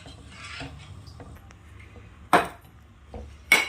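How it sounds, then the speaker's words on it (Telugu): A utensil stirs Karachi halwa in a pan, giving soft scraping strokes punctuated by two sharp clacks against the pan, close and quiet, with no talking. "సో ఇలా కలుపుతూ నియర్లీ 7 to 8 minutes మనకు పడుతుంది టోటల్ హల్వా కావడానికి"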